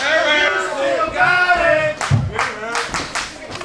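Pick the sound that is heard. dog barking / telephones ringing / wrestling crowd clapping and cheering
wrestling crowd clapping and cheering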